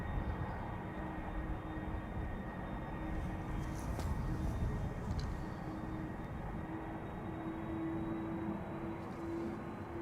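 Airliner climbing out after departure from Amsterdam Schiphol Airport, heard as a faint, distant, steady jet rumble that holds evenly throughout with no talking.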